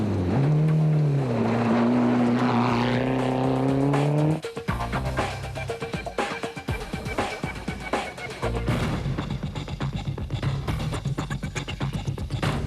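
A race car in an off-road desert race at full speed. Its engine rises in pitch with revs, cuts off abruptly, then continues as a rough, rattling drive with clattering and bumps.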